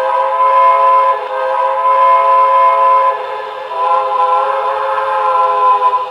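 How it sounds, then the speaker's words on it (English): A Broadway Limited M1B model locomotive sounds its whistle in one long, steady, chord-like blast with a slight quilled waver near the middle, loud and close with no talk. "if I blow the whistle"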